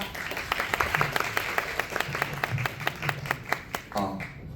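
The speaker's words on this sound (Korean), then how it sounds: "큰 박수 부탁드리겠습니다" Audience at a press conference for World Voice Day in a Gangnam culture venue, clapping in a steady, fairly even rhythm of distinct hand claps that carries on for several seconds before tapering off.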